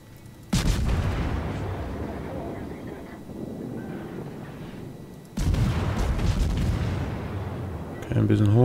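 Warship naval gunfire in the video game World of Warships: two heavy booming salvos a few seconds apart, each followed by a rumbling tail, with someone talking over the battle.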